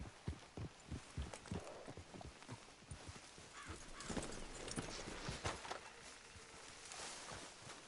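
Horses' hooves clop in an even walking rhythm in the video game Red Dead Redemption 2, fairly faint, the beats crowding together as several animals move along.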